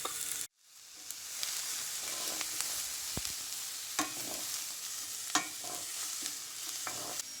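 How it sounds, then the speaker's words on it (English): A pan of onions sizzles steadily as they fry, with a constant hiss punctuated by occasional pops and the clink of stirring. "We let that fry for about 4 minutes"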